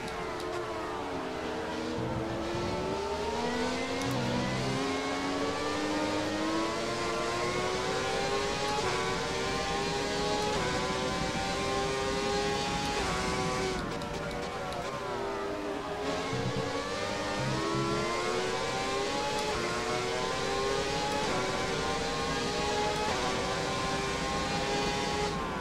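A V12 race car engine in the F1 2017 game, loud and continuous, its whine climbing through the gears, then dropping and climbing again, with another car's engine mixed in and no voices.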